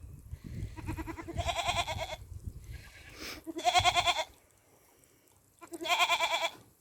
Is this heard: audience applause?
no